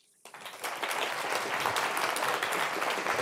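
Audience applause fills a hall at a healthcare conference on mental health treatment, rising abruptly from near silence into steady, dense clapping that holds at a moderate level for a few seconds.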